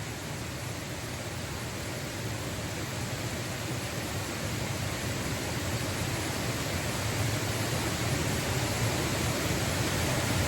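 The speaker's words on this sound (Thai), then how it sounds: "ได้ยินเสียงน้ำไหลแบบดูน่ากลัวทุกคน" Flowing water gives a dense, constant broadband rush, loud and even from start to finish like a strong current or nearby cascade, with no one speaking.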